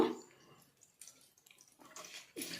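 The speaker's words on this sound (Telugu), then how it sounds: "ఒట్టి నీళ్ళు పోసి కడిగి చూపిస్తాను" Quiet splashes of water poured over hair come in short bursts separated by brief pauses, with a faint trickle between them.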